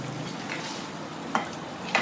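Crab pieces go into an arrabbiata sauce in a hot pan, giving a steady close sizzle and fry with a couple of sharp clinks of a utensil against the pan.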